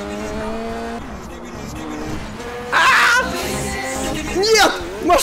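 A car in the Garry's Mod video game drives with a steady engine drone, then its tires squeal loudly in two bursts, while a voice shouts over the noise.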